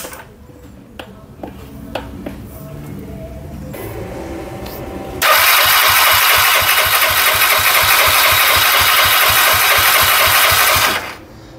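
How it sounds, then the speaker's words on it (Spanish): An AKT NKD 125 motorcycle engine on a repair bench: a few clicks and a starter crank, then the engine catches and runs loud with a rapid steady pulse for about six seconds before cutting off. "Esta moto está prendiendo correcto."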